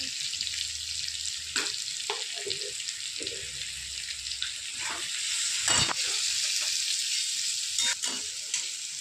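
Spiced masala with salt frying in a pan for upma, a constant bright sizzle beneath sporadic clinks and scrapes of a stirring spoon, fairly close and moderately loud.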